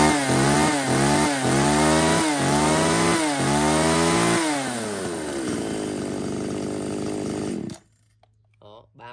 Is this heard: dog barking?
no